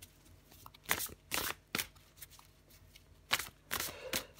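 Tarot cards being shuffled and drawn, a run of crisp riffling bursts and short slaps, close and fairly quiet with no talking.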